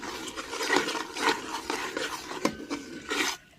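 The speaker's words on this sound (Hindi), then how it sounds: "इसको अच्छी तरह सूजी को भूनते रहना" A spoon stirs and scrapes semolina as it roasts in a pan for egg halwa, giving repeated rasping strokes in an uneven rhythm, close and moderately quiet, with no talking.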